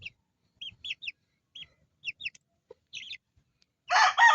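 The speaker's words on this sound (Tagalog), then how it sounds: "But I have so many chickens all up here." Chickens clucking in short repeated bursts, close by and moderately loud, with a louder, denser burst of squawking fowl noise at the end.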